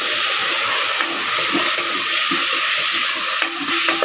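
Mutton masala with tomatoes fries in a pan, giving a loud, steady, close sizzle with a bright hiss throughout and faint stirring scrapes underneath.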